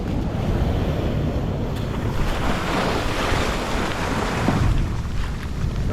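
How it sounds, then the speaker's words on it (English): Big ocean waves crash on shore during a hurricane, a dense continuous roar of surf mixed with heavy wind buffeting the microphone, loud and unbroken throughout. "the waves are so big, you can't get comfortable at all"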